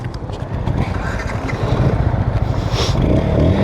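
A motorcycle engine runs steadily after starting, a continuous low rumble that grows slightly louder toward the end, with no talk over it.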